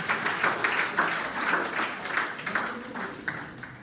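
An audience at a motivational talk claps in a fairly even wash, moderately loud and nearby, with the applause gradually thinning toward the end and a faint voice murmuring beneath it.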